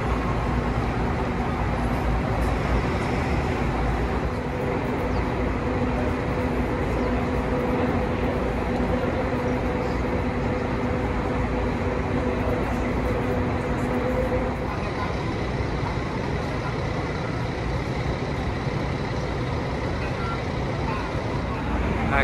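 An intercity coach of the Rod Rotas Estrela line, bound for Goiânia from Bom Jesus de Goiás, maneuvers at the busy Goiânia bus terminal: a steady engine drone with reversing beeps, surrounded by crowd chatter and station noise.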